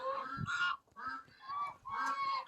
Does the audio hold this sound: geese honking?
yes